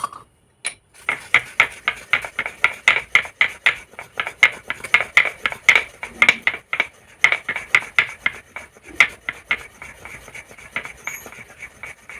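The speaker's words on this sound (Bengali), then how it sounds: "এবার এখানে চন্দনটা আমি বেটে নিই" Sandalwood is ground into paste on a stone with Ganga water, a rapid series of sharp rhythmic scraping strokes that repeat steadily for several seconds, close and distinct with brief pauses, and no voices.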